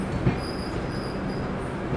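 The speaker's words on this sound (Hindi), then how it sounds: "बेंगलोर के अंदर इस ट्रेन का दूसरा हॉल।" A Humsafar Express train slows at Banaswadi station in Bengaluru, giving a faint steady rumble with a high wheel squeal running through it and a soft clunk near the start.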